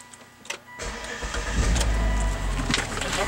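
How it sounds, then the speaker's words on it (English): A 2011 Volvo XC90 AWD engine cranks briefly and catches, then settles into a steady, smooth idle heard up close, with faint birdsong in the background. "Okay, I'm gonna start the engine."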